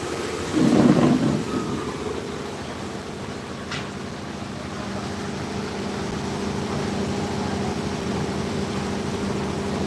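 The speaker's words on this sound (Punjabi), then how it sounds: "ਕਾਫੀ ਮੀਂਹ ਪੈ ਰਿਹਾ ਹੈ" Steady heavy rain pours down continuously on a school road in Tapa Mandi, with a brief low rumble near the start and a faint sharp crack a few seconds in; no talking.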